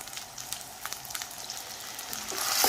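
Half a cup of hot oil crackles and sizzles in a pan for a curry, with scattered pops that swell louder near the end as an onion goes in.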